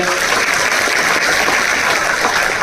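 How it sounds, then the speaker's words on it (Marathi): Loud, sustained applause from an audience at a political speech event in Dharashiv, a thick continuous roar of clapping that holds at full strength without a break. "आपण जोरदार टाळ्या वाजूया"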